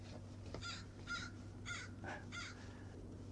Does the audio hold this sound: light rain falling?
no